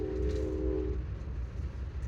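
Amtrak passenger train rolling on rails out of New Jersey toward New York, a steady low rumble heard from inside with a faint tonal hum early on.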